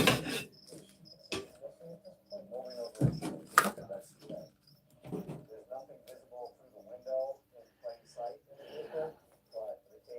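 Crickets in a kept colony chirp in quick, scratchy bursts at close range, broken by sharp knocks and handling noises, with softer chirps trailing between.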